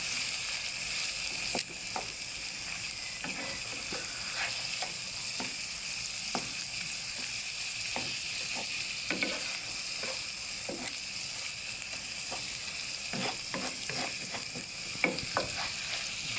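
An egg fries in an oiled pan for pad see ew with pork and wide rice noodles, broken into pieces as it cooks. A steady close sizzle runs throughout, punctuated by repeated scraping strokes of the stirring utensil.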